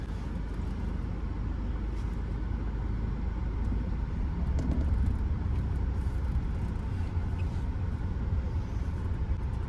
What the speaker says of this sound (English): I'm inviting you along with me to a hectic drive in the Kotor hills of Montenegro